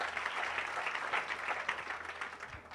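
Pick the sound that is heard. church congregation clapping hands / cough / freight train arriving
church congregation clapping hands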